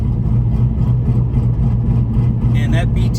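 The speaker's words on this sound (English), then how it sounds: "It sounds like chains whipping through the exhaust." An LS-swapped car with a BTR Stage 3 cam idles loudly nearby through its exhaust, with a rough, lopey, chopping rhythm. Brief voice sounds come in near the end.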